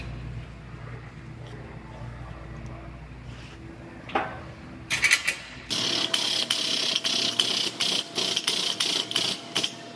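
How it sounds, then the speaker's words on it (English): A ratchet works bolts loose on a car frame straightening setup in a body shop, a faint clatter at first, then a loud run of rhythmic clicking strokes in quick succession. "I'm gonna take these bolts out"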